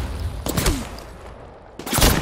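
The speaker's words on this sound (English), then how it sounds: "They spotted me. I'm taking shots." Gunfire in the Apex Legends video game: two bursts of rapid shots, one early and one near the end, separated by a quieter gap.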